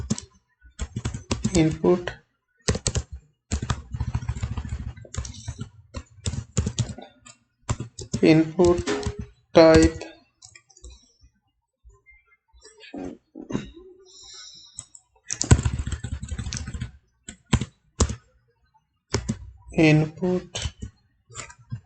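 HTML code being typed on a computer keyboard in bursts of quick clicking keystrokes, close by, alternating with a person talking.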